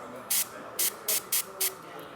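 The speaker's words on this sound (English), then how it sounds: "I'm gonna spray that side of the backpack, turn it around, spray the other side." An airbrush fires five short, bright hissing bursts of paint onto the side of a backpack, evenly spaced and close, each cutting off cleanly over a faint steady hum.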